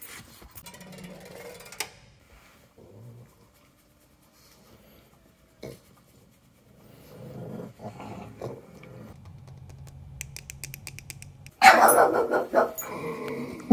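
A dog gives scattered barks and low growls close by, with long quiet gaps between them and a loud, busy burst near the end.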